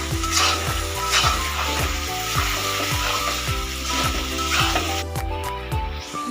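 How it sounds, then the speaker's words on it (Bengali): Chicken meat hits a pan of spices fried with dry chili powder, giving a loud, steady sizzle of frying that runs the whole time, with stirring underneath and no talking. "এখন মাংসটা দিয়ে দেব।"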